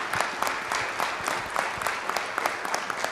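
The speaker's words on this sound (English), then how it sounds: "Let's give her another round of applause." Scattered clapping at a city council meeting, with individual claps standing out in an uneven rhythm over a softer spread of applause, moderately distant and without talk.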